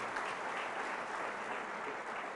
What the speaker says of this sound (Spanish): Fuertes aplausos al Señor por su amor y su misericordia.